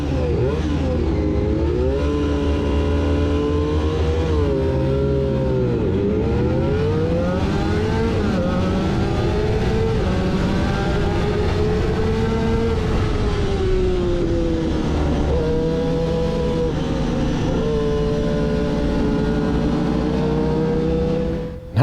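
A race car launches off the line at 8,000 to 9,000 RPM during a race. The engine screams steadily and loudly, its pitch dipping and climbing through gear changes and never pausing.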